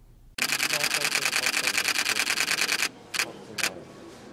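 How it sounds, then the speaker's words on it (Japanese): A Canon EOS 90D firing continuous shots through the optical viewfinder in a camera showroom: a rapid, even machine-gun burst of crisp shutter clicks lasting about two and a half seconds, then two isolated single clicks, close and loud. "それではまずファインダー撮影時のシャッターオンです。"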